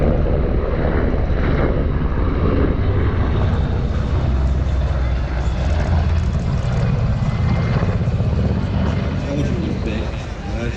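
A large helicopter with big, thick rotor blades hovers over the sea at an airshow in Ayr, Scotland, its steady, loud engine and rotor roar running throughout under crowd and commentary noise.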